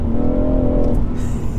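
A BMW M2 sports car engine revs with a steady, throaty drone up close, its pitch holding strong before a brief hiss near the end.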